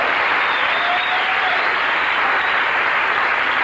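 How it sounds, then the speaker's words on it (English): A studio audience applauds during the theme of The Garry Shandling Show, a steady, dense wash of clapping that holds at full level from start to finish with no talking. "go ahead, applaud the theme."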